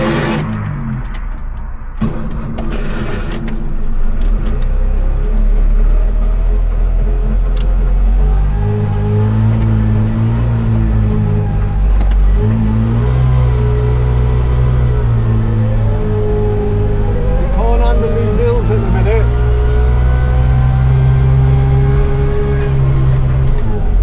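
A two-stroke car engine runs on choke, idling in a loud, uneven rumble that swells into repeated revs. A voice talks over it throughout.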